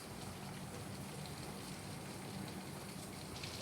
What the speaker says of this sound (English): I wanna see the rain.